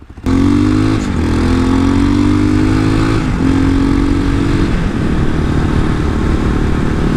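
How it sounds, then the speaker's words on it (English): Loud, steady Hawk 250 motorcycle engine drone while riding, holding a constant pitch with a slight shift in the engine note, plus wind rumble. "it sure feels nice being out on the motorcycle"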